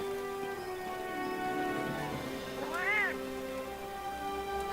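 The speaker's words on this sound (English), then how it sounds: "Sounds like the cat burned himself" In the video game Monster Hunter World, a cat meows once with a rising, bending cry, over steady game music and ambient tones.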